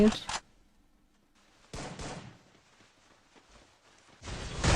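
Bursts of gunfire from an online shooter game, crackling in short volleys at the start, in a longer spell midway and again at the end, mixed with game audio and no talk.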